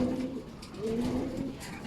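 Pigeons in a loft give soft, throaty coos, two close rising-and-falling calls with a low, rounded tone, heard nearby over faint background rustle.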